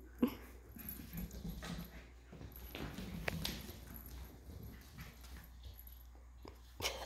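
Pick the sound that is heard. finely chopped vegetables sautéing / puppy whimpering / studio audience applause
puppy whimpering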